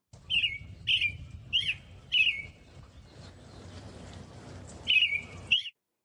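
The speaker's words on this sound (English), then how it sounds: "Here's the American robin's song." Bright, whistled robin phrases in short bursts, four in quick succession, a pause, then two more, clear and fairly close over a low background rumble.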